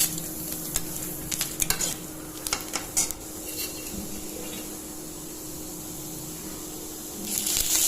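Garlic and curry leaves fry in a pan while a spoon stirs them, with scraping and clinks against the pan over a soft sizzle, then quieter sizzling and a brief louder burst near the end.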